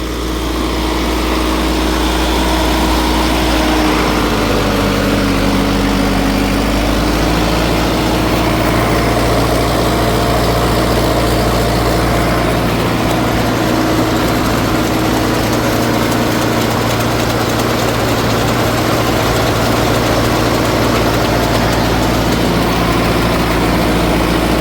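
Sonalika Tiger 75 CRDi tractor driving a PTO-powered mulcher through rotten banana plants, a loud, steady low engine drone with continuous mechanical churning that shifts slightly in pitch, running alone without voices throughout.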